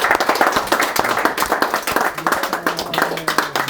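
Audience clapping at a Purim gathering, quick and rhythmic with individual sharp claps standing out close by, a lively steady beat with faint voices underneath.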